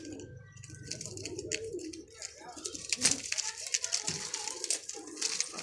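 Surkha pigeons of a white-eyed breed cooing in a loft, soft repeated low coos close by, with someone talking over them and some light rustling.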